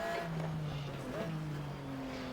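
Race cars in the GTR2 racing game produce a steady, droning engine note with slowly shifting pitch, recorded close and continuous throughout, alongside faint tire noise.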